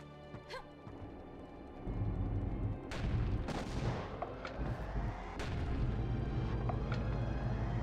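Cannon fire in the video game Kya: Dark Lineage: several heavy booming shots at irregular intervals over a steady low rumble of game ambience, with no talking.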